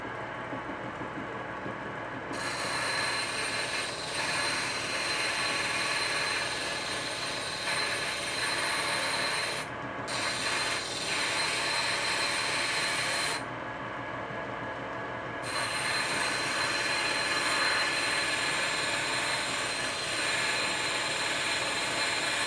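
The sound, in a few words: grinder shaping a small carving knife blade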